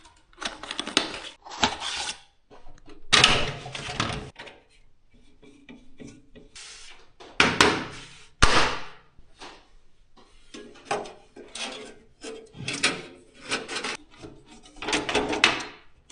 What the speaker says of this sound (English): Next, install the case fans to ensure proper airflow.